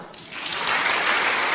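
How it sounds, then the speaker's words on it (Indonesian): Applause breaks out in a church, starting softly and swelling within a moment into loud, dense clapping from the congregation that holds steady to the end. "Tepuk tangan."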